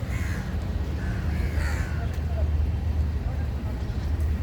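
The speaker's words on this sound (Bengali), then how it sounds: "এই কাকগুলো গোসল করতেছে মালয়েশিয়াতে এমন কাক অনেক আছে" Crows cawing at Merdeka Square in Kuala Lumpur, with a few harsh caws in the first two seconds over a constant low traffic rumble while someone talks nearby.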